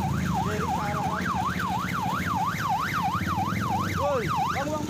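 Wailing siren, likely from a passing emergency vehicle, rising and falling in a steady rapid cycle and loud and continuous throughout, over a low rumbling engine, heard from a heavy motorcycle ridden in traffic.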